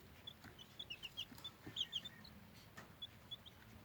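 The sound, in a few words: Serama and silkie chicks clucking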